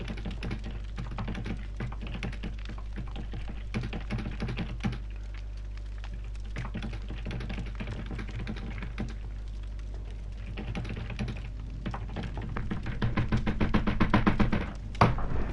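Rapid typing on a computer keyboard, dense irregular clicks and taps running steadily for about fifteen seconds, growing a little louder and heavier toward the end, with no talking.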